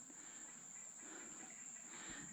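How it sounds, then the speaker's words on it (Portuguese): A swarm of bees nesting in a tree trunk beside an outdoor fishing spot gives a steady, continuous droning hum under a thin, high, unbroken whine, close and fairly loud the whole time. "Olha o barulho das abelhas."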